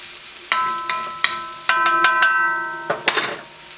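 Pad thai stirred and frying in a pan, with sharp ringing clinks of a utensil against the metal in an uneven series over a faint sizzle.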